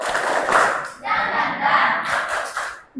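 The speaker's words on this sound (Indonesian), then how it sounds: "kita ice breaking tepuk semangat dulu" A group claps out a quick, rhythmic pattern for a classroom ice-breaker cheer, with chanting voices in bursts and a short pause around the one-second mark.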